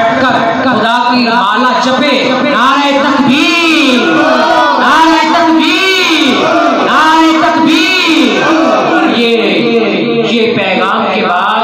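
A large crowd at a shrine gathering chants back in unison in response to a Takbir slogan, with loud, sustained voices rising and falling in rhythmic waves throughout.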